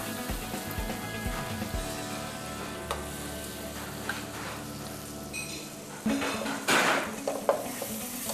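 Butter melting in a saucepan on the stove while cream of carrot soup is made, giving a steady close sizzle with stirring scrapes and a few louder pan clatters near the end.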